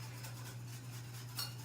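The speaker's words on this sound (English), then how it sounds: "We're going to stir that in with it." A spoon stirs a mixture for an emulsion in a kitchen bowl, a soft repeated scraping and light clinking of metal against the dish with a steady background hum.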